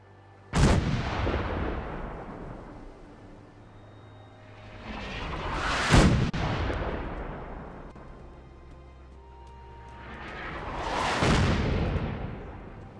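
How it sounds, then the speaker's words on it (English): Artillery weapon firing in a video game: three booming shots about five seconds apart, each a sharp loud blast that rolls off into a long fading rumble, with no voices. "the only slightly interesting weapon you get from them is the artillery"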